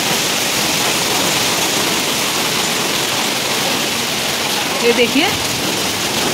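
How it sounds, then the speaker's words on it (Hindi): Dense, heavy rainfall mixed with hail hissing steadily and loudly in winter at Roorkee, India, with a brief spoken phrase near the end over the downpour. "बर्फ़ के साथ साथ बहुत तेज़ी से बारिश भी होने लगी है।"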